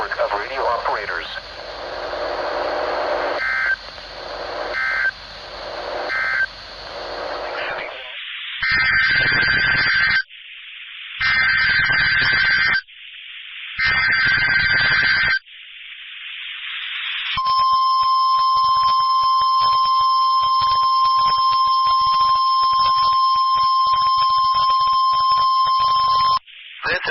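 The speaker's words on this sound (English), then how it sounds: "This is a test of the emergency alert system in Noaa Weather Radio's warning alarm." A NOAA Weather Radio emergency alert system required weekly test opens with a stretch of broadcast sound, then three harsh data bursts, followed by a long, loud, steady warning alarm tone.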